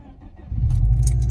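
A Subaru Outback XT with its mufflers removed turns over and settles into a deep, loud, raw engine rumble after a quiet first half-second.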